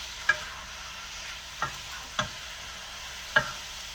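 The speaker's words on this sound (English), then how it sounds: "while the ground beef is browning right there" Soft sizzle of ground beef browning in a pan with onions and seasoning, with a few sharp clicks as it is stirred, four scrapes spread unevenly.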